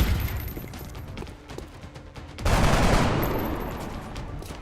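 Gunfire in the video game XCOM, a dense crackling fusillade of rapid shots, loud and near, with a heavier burst midway that swells and then slowly trails off.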